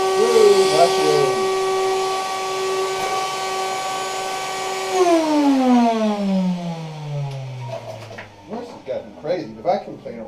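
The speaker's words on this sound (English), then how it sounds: "Crazy, the vacuum cleaner works." A vacuum cleaner, powered by a car through a vehicle-to-home backup setup, runs with a steady whine, then spins down with a falling pitch as it switches off, followed by someone talking nearby.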